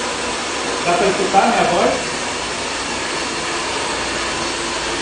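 A 2400-watt hair dryer blows with a loud, steady broadband whoosh throughout, while a person speaks briefly over the noise near the start.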